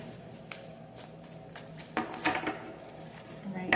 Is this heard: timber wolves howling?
no